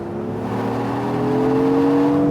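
A Lexus GX 550 twin-turbo SUV accelerates hard through a corner, its engine note rising steadily and growing louder over a couple of seconds, heard close from inside or near the vehicle with no talking.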